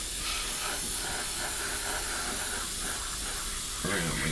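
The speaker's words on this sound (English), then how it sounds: "just to blow through anything that might be building up on the end of the airbrush" Steady hiss of an airbrush blowing clean air through its nozzle onto scrap while building a Hasegawa 1/48 Harrier GR7 scale model, continuous and close for the whole stretch, shifting slightly near the end.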